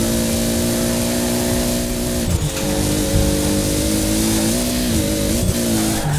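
A max-tuned Toyota Supra MK4 revs loudly and steadily in Forza Horizon 4, its engine note holding a sustained roar with brief dips and pitch shifts near the middle and end.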